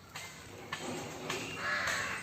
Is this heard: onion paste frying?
no